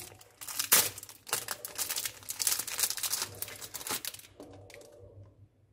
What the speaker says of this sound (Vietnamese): Mình sẽ bóc cái ni lông này ra